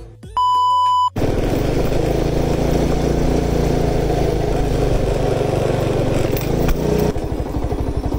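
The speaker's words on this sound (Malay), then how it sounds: "hari ni saya ada sebiji motor Y16 V2. V2. Alright. Owner nak koyak" A Yamaha Y16 V2 motorcycle engine roars loudly and steadily, revving hard after a short electronic beep at the start, then drops to a lower rumbling idle near the end.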